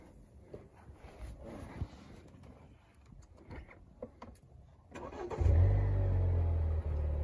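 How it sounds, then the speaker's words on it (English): A Haval H6 GT car engine cranks and starts, then settles into a steady, loud idle after a few seconds of quieter cabin sounds. "And now let's turn this car on."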